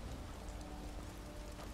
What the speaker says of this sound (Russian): Блин, да что ж дождь идет?